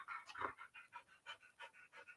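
A Coonhound Lab mix dog pants in quick, steady breaths, about a dozen rhythmic huffs up close and fairly soft, with no other sound over them.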